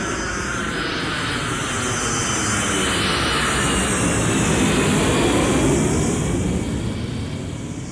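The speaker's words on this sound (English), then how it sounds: "160 dB is like it being by a jet plane taking off." A jet plane taking off roars loud and continuous, a dense broadband engine blast with a high whine sweeping slowly up and down, holding steady for the whole stretch with no voices.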